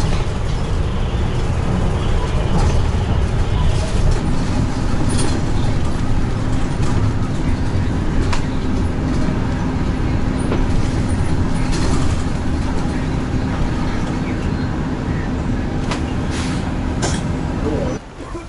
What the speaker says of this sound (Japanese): 違うバスが到着しました。